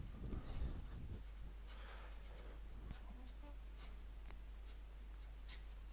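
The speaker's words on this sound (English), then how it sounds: "So I'll draw it again so we can just go through it more in depth." A pen or pencil scratches across paper while a mechanism diagram is drawn by hand, with intermittent quiet strokes and taps over a low background hum.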